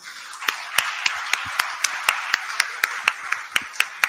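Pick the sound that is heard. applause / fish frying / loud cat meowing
applause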